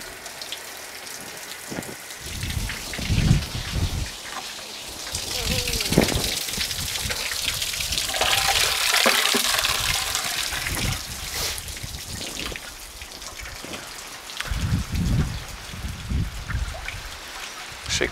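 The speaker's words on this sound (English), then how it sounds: "let all that water out" Water gushes and trickles steadily out of the drained water heater of an Outback Keystone 230RS camper trailer, a continuous close splashing flow with a voice talking over it at times.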